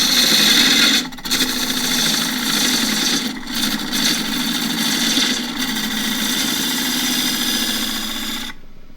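A continental gouge cuts an ash dish on a wood lathe, giving a loud, continuous close-up shaving and rushing tone over a steady spinning hum, with a few brief dips, before it cuts off abruptly at the end.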